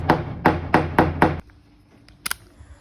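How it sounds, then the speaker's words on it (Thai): An IMAX cordless drill bores into a concrete wall to hang a clock, giving five loud, close, evenly spaced grinding bursts before stopping, followed by a few faint clicks. "อันนี้ผมลองเจาะปูนแขวนนาฬิกาดูนะครับ"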